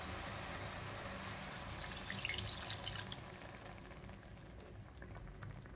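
Egg masala simmering in a pan after water is added to the oil-rich gravy, a steady soft bubbling and boiling hiss throughout, with a few brief louder pops in the middle and no talk.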